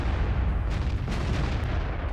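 An artillery shell fired in World of Tanks, aimed at a Tier X 140 tank: a dense, rumbling low boom that stays loud and continuous through the whole short stretch, with a brighter crack partway in and no one talking.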